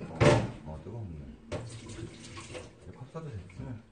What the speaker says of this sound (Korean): 끓는 물 여기다 넣어주시면